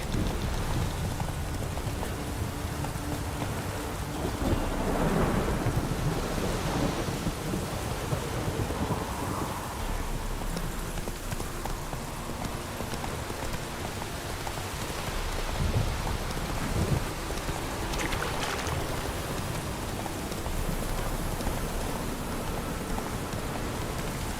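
Steady heavy rain pours throughout a thunderstorm in the video game The Witcher 3, with low rumbling thunder and a sharp lightning crack rising out of the constant downpour, no voices.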